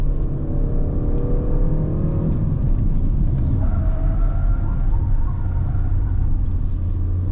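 A Peugeot 3008 SUV climbing the misty Genting road, its engine a steady loud rumble and whir from inside the cabin, the pitch rising then settling as the car is slowed, with no talk.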